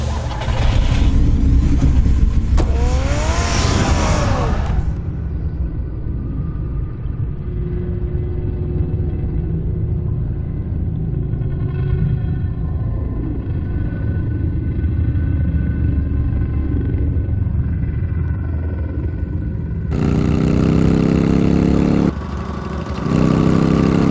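A car engine idles and rumbles steadily in the Batman: The Telltale Series video game, a low continuous hum that follows a brief louder burst of sound and runs under faint background tones.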